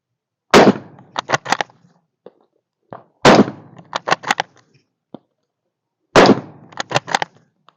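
Three loud, close gunshots from a Turkish-made Gewehr 98 bolt-action rifle, each a sharp crack followed by the clacking of the bolt being cycled, spaced a few seconds apart outdoors with no talking.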